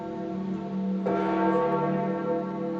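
Large church bells toll at St. Peter's Basilica in Vatican City during a solemn funeral procession, a sustained ringing with a fresh strike about midway, moderately distant and alone.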